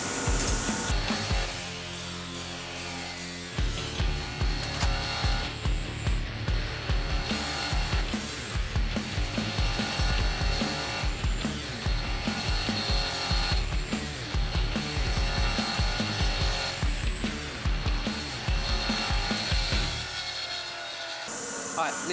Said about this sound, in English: just with the rough dome and the grinder.